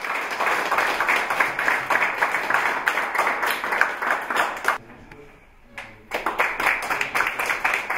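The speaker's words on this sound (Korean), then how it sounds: "다시금 뜨거운 찬사와 박수를 보내주시기 바랍니다." Audience clapping at an academic presentation, dense and lively applause from many hands, dipping briefly to near quiet in the middle before surging back just as strong.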